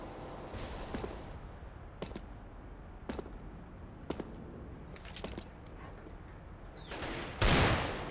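Counter-Strike: Global Offensive gunfire during an esports match: sharp single shots crack at roughly one-second intervals over a steady game background, with a louder burst and whoosh near the end.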